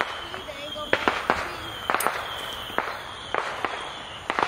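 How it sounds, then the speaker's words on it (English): Fourth of July fireworks boom and crackle at a distance in scattered single bangs, heard outdoors under a steady background hum. "Fireworks are started, guys."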